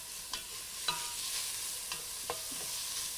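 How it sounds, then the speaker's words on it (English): Crushed garlic and basil fry quietly in a pan, a soft continuous sizzle broken by a few sharp clicks of a utensil against the pan, with no talking. "a little bit of crushed garlic. And for about 15 seconds allow that to cook through"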